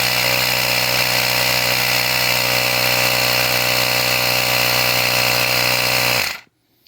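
A RYOBI 18V One+ cordless inflator pumps with a loud, steady motor drone that runs unbroken for about six seconds and then cuts off abruptly into silence, with no talking.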